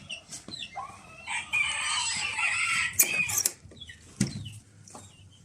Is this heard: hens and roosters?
yes